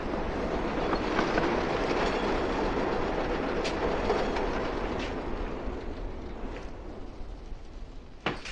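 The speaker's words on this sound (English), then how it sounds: "How often does the train go by?" A train rolls by close and loud for the whole stretch, a steady heavy rumble with clickety-clack of wheels over rail joints and a few brief squeals and clanks near the end.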